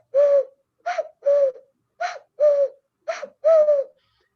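Cuckoo call imitated by a person blowing into cupped hands: seven hollow, hooting notes, near and fairly loud, in short uneven pairs with brief gaps, alone with no talk.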